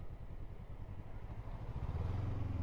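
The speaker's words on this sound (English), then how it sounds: "you're riding these bikes and you're riding them at speed" A Honda CL500 motorcycle rides along an off-road green lane, its engine a low, steady rumble with a slight rise in pitch toward the end, heard from close by with no voices.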